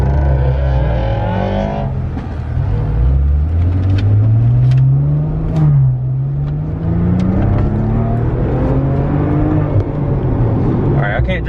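A modified Toyota Scion fitted with an aftermarket kit revs its engine in sweeping rises and falls, loud and close, with people talking over the engine noise.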